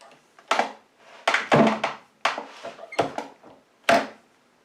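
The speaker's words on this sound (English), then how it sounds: "you're hearing a characteristic sort of double bump sound there" A single stage reloading press seats a .45 ACP bullet on a kitchen table, giving a series of close, solid wooden thunks and knocks, several in a row with short pauses between them.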